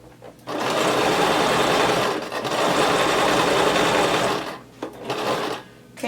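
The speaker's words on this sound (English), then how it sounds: "so I'm going to keep sewing until I get there" A sewing machine runs a pocket seam on a DIY duster coat, a close, loud, steady whirring stitch that dips briefly near two seconds, then stops and restarts in short bursts toward the end.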